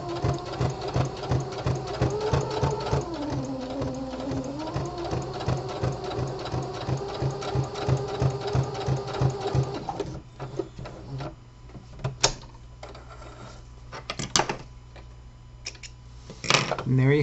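A home sewing machine runs steadily while stitching a full lapped seam on heavy fabric, a dense rapid needle rhythm for about ten seconds, then stops, leaving scattered clicks and handling knocks.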